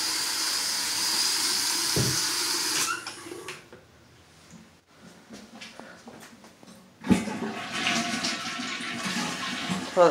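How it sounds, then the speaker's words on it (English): A household toilet flushes nearby: a loud rushing swirl that drains away into quieter gurgling and refilling, followed by a second surge of water noise. "Toilet flush is fine."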